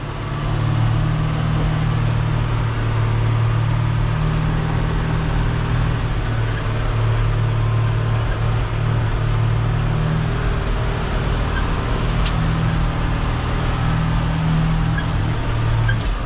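A vehicle rolls over a gravel road, giving a continuous loud engine drone with a low hum and a gritty crunch underneath, steady and close for the whole stretch, with no voices.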